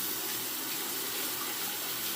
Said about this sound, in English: Now I'm going to wet the razor.